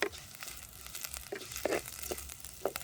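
Steady crackling sizzle of curry leaves frying in hot oil for tempering, with sharper pops and spits bursting out every so often, close by and without talk.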